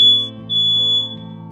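A smoke alarm emits piercing high beeps in repeated bursts, loud and close, over a low electronic drone.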